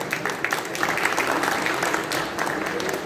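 A crowd at a political speech by a Telangana party leader breaks into sustained applause, a dense clatter of many hands that stays loud and steady throughout.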